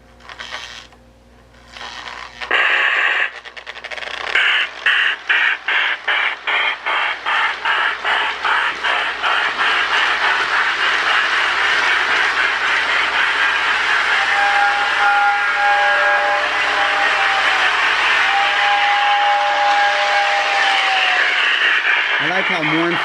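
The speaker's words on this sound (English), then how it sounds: "I like how mournful those MPC era whistles are." Lionel MPC-era toy steam locomotive pulling the Capitol Limited, its smoke unit chuffing in a steady rapid rhythm that settles into a continuous hiss, with a mournful whistle sounding twice near the end, close and loud.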